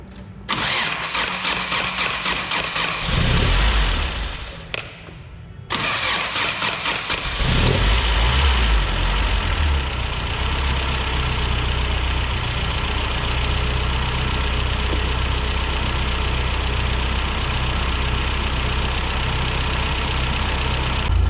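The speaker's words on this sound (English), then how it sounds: "All right, so the motor's running, sounds good." Toyota pickup with a 22RE engine cranks and starts after a brief stumble, then settles into a steady, loud idle that runs continuously close by.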